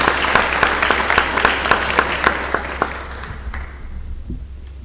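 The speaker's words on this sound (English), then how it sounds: "A round of applause also again to Coastal Pines." Audience applause at a sports awards ceremony in Waycross, Georgia honors Coastal Pines, a steady patter of many hands that fades out toward the end.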